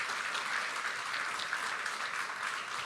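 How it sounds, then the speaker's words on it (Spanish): A church congregation claps together in sustained, even applause, a dense wash of hand claps filling the room without pause. "dile un aplauso al Señor fuerte."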